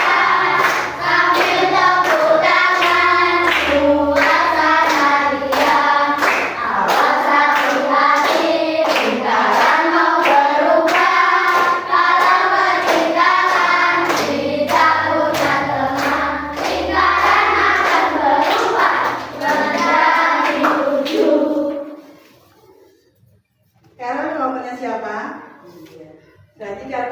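Children in a classroom group activity clap their hands in a quick steady rhythm beneath loud singing or chanting voices, then the voices briefly drop out before resuming.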